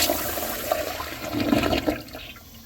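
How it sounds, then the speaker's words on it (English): Kohler Kingston Waterguard wall-mounted toilet flushing with rim jets, a close, forceful rush of water that swells then fades into a gurgling drain, no voices. "It has to be one of the best flushes I've ever seen of a wall-mounted toilet"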